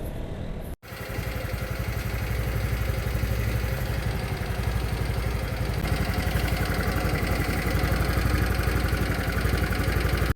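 A Honda Callisto 125 scooter engine idles close by, a steady rhythmic putter with a light mechanical clatter like a sewing machine, unbroken for about ten seconds.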